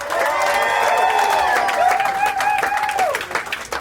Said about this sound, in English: It seems like just as many people cheering, but not as loud.